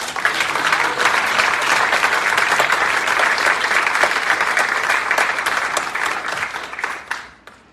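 Audience applause at a live concert event, dense and sustained clapping from a sizable crowd that holds steady for about seven seconds before tapering off at the end.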